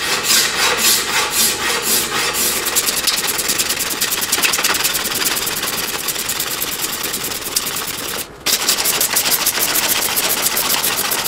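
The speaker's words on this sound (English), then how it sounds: "I'll probably just do 10 scrapes." Steady rhythmic rasping of a scraper drawn along a wooden bow limb during tillering, close and continuous, repeated strokes with one brief pause, no talk.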